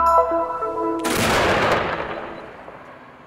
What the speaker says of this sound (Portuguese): Um golpe de granada ressoa em Jerusalém.